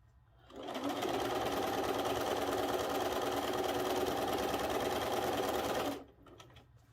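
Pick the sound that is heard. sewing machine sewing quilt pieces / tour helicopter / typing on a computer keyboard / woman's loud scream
sewing machine sewing quilt pieces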